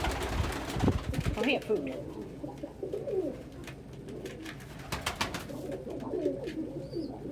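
Pigeons or doves coo in soft, repeated low calls close by during a relaxed session with pet birds, with a person talking briefly over them near the start.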